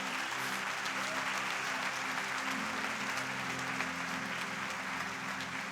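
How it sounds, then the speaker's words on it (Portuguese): A church congregation applauds during a sermon, dense sustained clapping from many people that holds steady and fairly loud throughout. "Você pode aplaudir a Jesus com bastante empolgação?"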